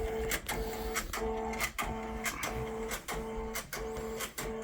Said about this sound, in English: It's going to do a placement stitch. Basically tells us where to place the circle.